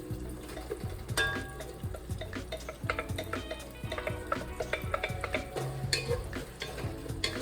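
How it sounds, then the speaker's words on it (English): Spoon stirring split pea soup with freshly added leeks in a cooking pot, with steady scraping and clinking strokes over a constant sizzling simmer, close by and without speech. "I'm gonna stir."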